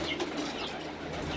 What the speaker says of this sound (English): These birds pick up all the scraps.